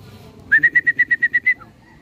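A single pigeon call rings out nearby: a quick run of about nine even, whistled notes, clear against a quiet background.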